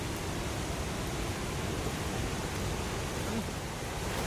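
A roaring waterfall, Putudi Falls near Phulbani, swollen with rainy-season water, gives a steady, loud, broadband rush that never lets up, like dense continuous noise.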